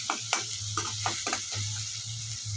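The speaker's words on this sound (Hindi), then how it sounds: "ये जो है अच्छी तरह से अभी इसमें भून जाएगा।" Roasted spice masala frying in a pan for hotel-style eggplant curry, steady sizzle with a spoon scraping and stirring in rhythmic strokes, close and clear.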